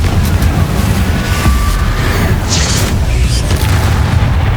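Loud booming blasts from the Confringo explosive spell in the Hogwarts Legacy video game, dense low rumbles with sharp bursts layered over game sound throughout.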